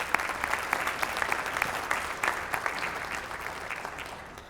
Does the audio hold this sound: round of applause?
yes